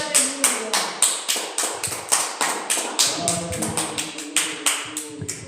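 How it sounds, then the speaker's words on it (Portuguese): A church congregation claps in praise: crisp, loud rhythmic claps roughly three per second, steady throughout, with faint tonal voices or music underneath. "Mais palmas que louvam o nome do Senhor."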